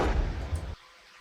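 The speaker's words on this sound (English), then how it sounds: "I have the whoosh sound" A whoosh transition effect in a UK drill type beat sweeps loud and brief out of a drum break, then drops away abruptly to near silence in under a second.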